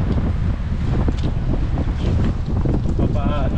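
Strong wind buffets a fishing boat at sea, with continuous loud gusting and rumbling across the whole stretch, plus faint water and motion noise.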